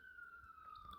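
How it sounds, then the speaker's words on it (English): A faint siren outside sounds as a single steady wailing tone, distant and thin, heard alone for about a second before a brief click at the end. "Excuse me while there's a siren there."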